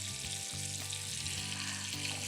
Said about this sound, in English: I've got a skillet with a little bit of olive oil and butter, and I'm just gonna set them in.